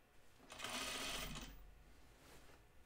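A sewing machine stitches a dress seam in one short, fast burst of whirring that lasts about a second, then the room goes quiet.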